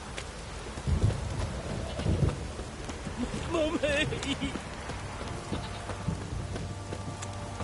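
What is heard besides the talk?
heavy rain downpour in The Witcher 3 video game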